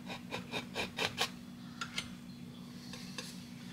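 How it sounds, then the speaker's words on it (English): A palette knife scrapes wet oil paint off a landscape canvas in a string of short rasping strokes, several quick ones close together, then a pause and a few fainter scrapes, near and alone over a low steady hum. "I'm just going to scrape it up."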